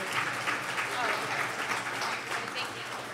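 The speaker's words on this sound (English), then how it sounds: "So could you give Oric a round of applause?" Audience applause at a live-streamed event: a dense, sustained wash of many hands clapping at once, even in level throughout, with some voices mixed in.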